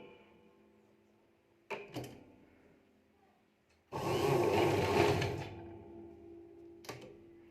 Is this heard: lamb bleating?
no